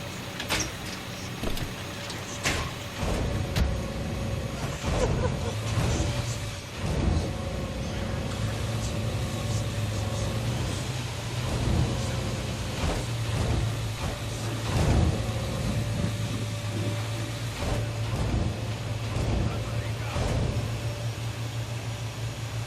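Vehicle driving in Ghost Recon Wildlands on PS4, a steady low engine drone with scattered clunks and rattles, moderately loud and without talk.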